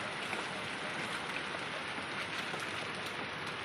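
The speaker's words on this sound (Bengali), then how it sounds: "দেখো জোরে জোরে বৃষ্টি পড়তে শুরু করে দিয়েছে," Heavy rain falls steadily on outdoor surfaces on a cold, windy day, a dense even hiss with scattered drop patter and no break.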